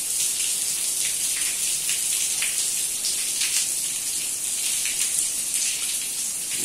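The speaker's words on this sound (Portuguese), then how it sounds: "Aqui em Maceió chove, choveu ontem, está chovendo hoje." Steady rain falls in Maceió, a dense, even hiss of drops that holds without pause from start to finish, with no voices over it.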